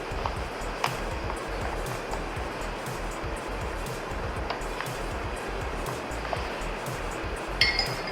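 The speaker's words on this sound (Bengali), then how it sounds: "ওদিকে ছোলার মশলাটা কষিয়ে নিতে নিতে আমি এখানে ট্যাং গুলিয়ে নেব আমার জন্য।" A spoon clinks against a glass while Tang drink powder is stirred into it, a close, rapid run of small metallic taps and swirling over a steady background hiss, with a few sharper clinks.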